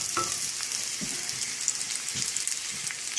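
Sliced ginger pieces sizzle steadily in hot oil in a tiny home kitchen, a constant crackling hiss with a few soft knocks of stirring underneath, close and unbroken.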